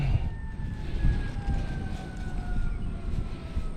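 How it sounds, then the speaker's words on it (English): Fire truck sirens wail steadily in the distance over a low rumble of outdoor background noise, their gliding tones holding for the whole stretch. "Fire trucks are rolling like crazy."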